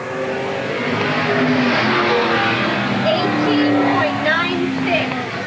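A race car roars around Eugene Speedway, Oregon, in 1987, its engine droning loudly and continuously with shifting pitch as it passes. A public-address voice talks over the engine noise.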